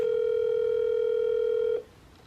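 A steady telephone ringback tone on an unanswered call, heard as one continuous loud tone that cuts off abruptly near the end.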